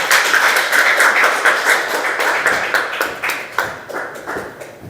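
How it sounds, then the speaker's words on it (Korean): A church assembly's congregation claps together in a steady burst of applause, loud and even, slowly thinning toward the close. "박수 한번 할까요?"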